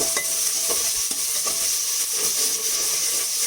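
A large chopped onion fries in hot oil for an Indian-style trotters paya dish, a bright, steady sizzle with brief stirring scrapes close by and no talking.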